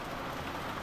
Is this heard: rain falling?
yes